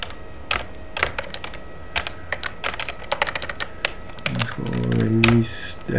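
A command is typed on a computer keyboard to query an Ubuntu 14.04 server: a run of close, crisp key clicks at an uneven pace, with a brief low tonal sound near the end.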